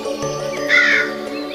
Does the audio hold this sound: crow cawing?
yes